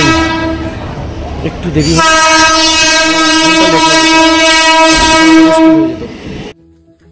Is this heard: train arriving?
yes